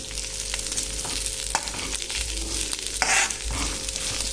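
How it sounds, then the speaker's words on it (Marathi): Garlic frying in an iron wok, sizzling steadily at close range with a brief louder scrape of stirring partway through; no one speaks. "शक्यतो लोखंडी भांड्यातच हा लसूण फ्राय केला जातो"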